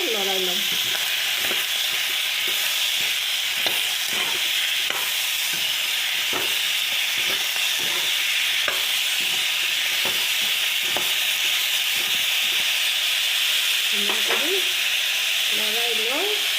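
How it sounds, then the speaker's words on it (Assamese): A frying pan sizzles steadily with a hissing, crackling bed as food with turmeric is stirred, the spatula scraping and tapping in a loose repeated rhythm throughout, close and fairly loud. "হালধি দি আৰু ইয়াক ভালদৰে লৰাই ল'ম"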